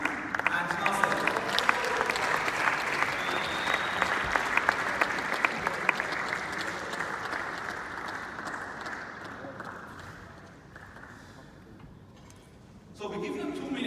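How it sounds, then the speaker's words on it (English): An audience claps for two junior players about to play a few shots, a full round of applause that gradually thins and fades before a voice returns at the end. "So let's give a clap to Ali and Nasser."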